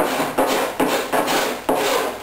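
A cabinet scraper is dragged in repeated short strokes over filler on a taped seam, giving about six rasping scrapes in quick succession, each starting with a sharp bite, close and fairly loud.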